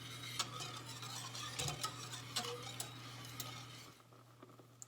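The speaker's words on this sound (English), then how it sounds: "make sure you constantly mix it" Custard heats in a pan toward a boil while being stirred constantly, making soft scraping strokes and light clinks against the pan over a low steady hum, fading quieter near the end.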